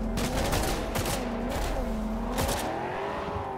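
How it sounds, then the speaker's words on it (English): Gunfire from a car shootout in the Cyberpunk video game on PS4: sharp gunshots over a continuous droning car engine and rushing road noise, loud and busy, with no talking. "Look at Jackie shooting out the window."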